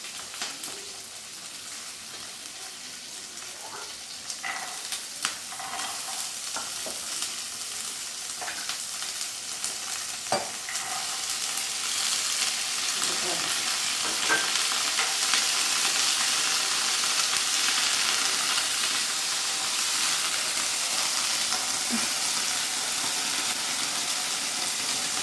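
Cumin, garlic, ginger, green peas and green chili fry in hot oil for matar paratha, giving a steady sizzle that grows louder and fuller midway, with a few light stirring clicks early on.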